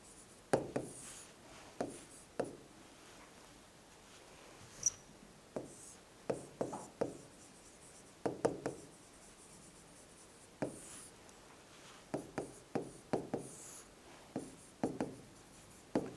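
Writing on a board or paper during an accountancy lesson: a steady series of soft scratchy pen or chalk strokes, coming in short bursts with pauses between them, close and quiet with no speech.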